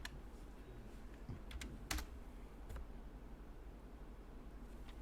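Quiet typing on a computer keyboard with a few sharper, louder key strikes standing out, including space bar presses, scattered irregularly over a low steady background hiss.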